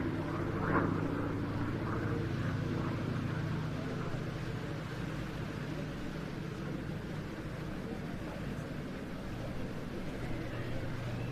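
Display aircraft flying at the Jersey air display, a steady droning engine tone holding throughout at moderate distance, with a commentator's voice briefly over it early on.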